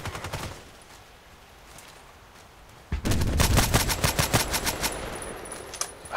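Rapid bursts of automatic gunfire from an Escorpiao in the shooter game Contract Wars, loud and close, with fast repeated shots after a quieter opening stretch.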